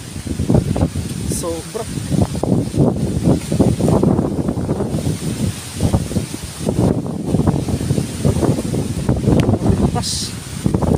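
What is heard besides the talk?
strong monsoon wind from typhoon Carina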